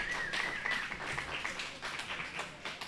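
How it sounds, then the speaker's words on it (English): A round of applause from listeners at a political rally, scattered clapping heard at a moderate distance and fairly quiet, sustained and even for a few seconds with no talk over it. "So give it up for the listeners here today"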